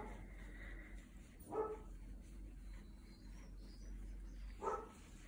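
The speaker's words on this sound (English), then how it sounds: "Oh, that's the dog barking." Two brief, faint dog barks a few seconds apart, heard indoors in a quiet room with a soft background hum.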